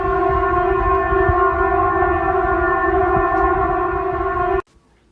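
Emergency Alert System alarm tone: a loud, steady electronic two-tone drone held without a break for over four seconds before it cuts off abruptly into near silence.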